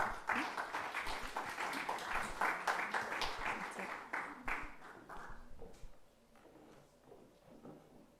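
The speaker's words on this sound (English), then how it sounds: "a big applause to Sofia Serra Silva." Audience applause at an academic conference on democracy, dense clapping from a seated crowd that holds steady for several seconds and then thins out and fades as it ends.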